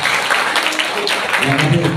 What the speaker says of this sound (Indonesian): mari kita tepuk tangan dulu, tepuk tangan